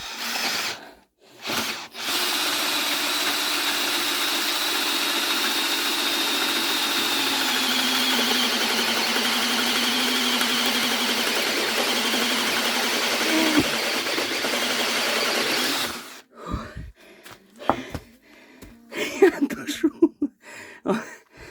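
An Einhell 50 Nm cordless screwdriver runs after repair with a loud, steady whirring motor drone that holds for about fourteen seconds alone, then stops and gives way to scattered clicks and handling knocks.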